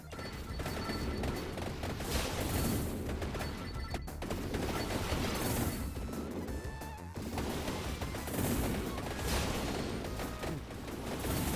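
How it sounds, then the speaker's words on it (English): Continuous barrage of missile fire in Vampire Survivors, the Emerald Diorama SaGa expansion, a dense crackling rattle of rapid hits and blasts that runs nonstop with little let-up. "these missiles are awesome"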